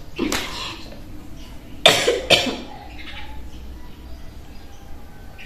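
A person coughs in a short fit of a few harsh bursts, loud and close, with faint birdsong outdoors in the background.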